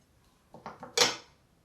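A serrated knife sawing through a soft, warm keto almond flour burger bun, a few short quiet strokes ending in one sharper scraping cut.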